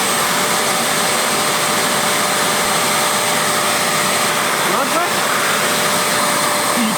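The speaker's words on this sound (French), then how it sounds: "on a un aspirateur Karcher industriel qui a un peu aspiré de l'eau et tout." Karcher industrial vacuum cleaner, with some water sucked up, runs in a steady, loud continuous whine and rush of air from start to finish, without pauses.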